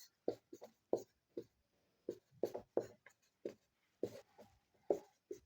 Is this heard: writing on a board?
yes